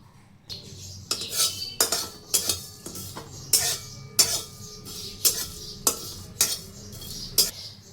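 Cloves, cardamom, cinnamon, mace and cumin dry-roasted in a pan, stirred with a metal spoon that scrapes and clinks in about a dozen regular strokes, close and clear with no talking.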